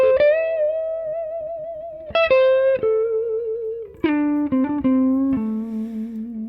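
Affordable Les Paul style electric guitar played through effects, ringing out a few sustained, slightly bent notes that slide and change pitch over several seconds, with bright overdriven harmonics and no talking.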